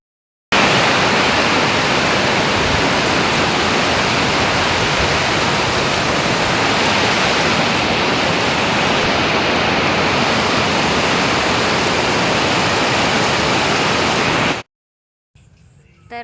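Heavy monsoon rain pours down outside a house near a polyhouse in a dense, steady roar that continues unbroken for about fourteen seconds, then stops abruptly.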